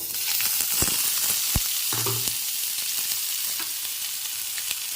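Tomato frying in hot oil with a tempering of dried red chilli and mustard seeds for thin masoor dal, a steady close sizzle with scattered pops and a few stirring knocks, no talk.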